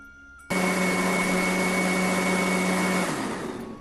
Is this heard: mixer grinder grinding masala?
yes